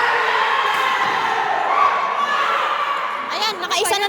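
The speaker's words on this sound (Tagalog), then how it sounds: "Nagsisigawan na po sila, hindi na po namin alam ang nangyayari" A crowd of children and adults shouts and cheers in a continuous, busy roar, with excited voices rising and overlapping throughout and a few sharper yells near the end.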